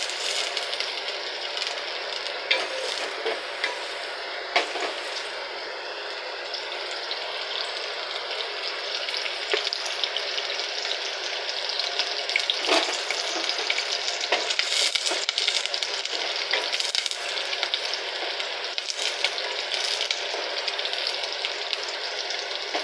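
Curry leaves spit and crackle in hot oil, making a dense, steady sizzle with scattered sharper pops that goes on for the whole stretch, close up with no speech.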